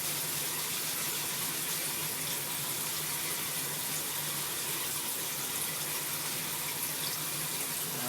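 A kitchen tap runs steadily while food is rinsed under it, a loud, constant gushing spray that continues unbroken for about eight seconds with no talking.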